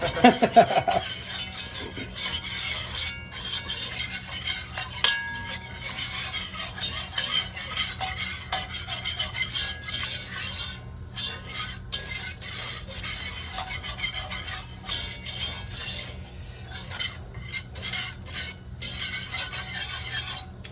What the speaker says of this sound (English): just want to make sure you keep scraping the sides down, because wherever it's sitting freely, it can burn